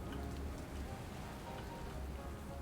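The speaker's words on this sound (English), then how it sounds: "I love it when it rains here." Steady, soft rain patters in the News Tower game, a continuous even hiss of drops with no voices over it.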